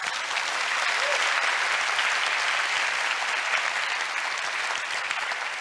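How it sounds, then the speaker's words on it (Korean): Audience at a lecture breaking into applause, a thick, continuous clapping from a large crowd held at a steady level for several seconds, with no voices over it. "박수 안 치시나요?"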